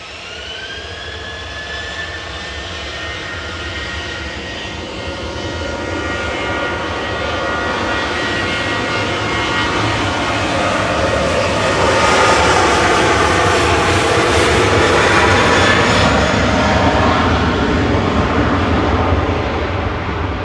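A jet airliner departing Manchester Airport on flight 2684 to Lamezia Terme roars steadily and loudly, its engine noise swelling slightly as it goes, with a whining tone rising over the broad rumble.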